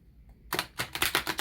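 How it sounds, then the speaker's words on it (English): Tarot cards being shuffled, a quiet close riffle: a few soft flicks and then a quick run of dry, papery snaps, with no voices. "let's go ahead and finish shuffling and I'll pull some cards."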